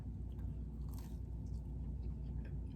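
Close, muffled chewing of a crescent roll filled with chocolate, soft steady mastication with a faint crunch, no talking.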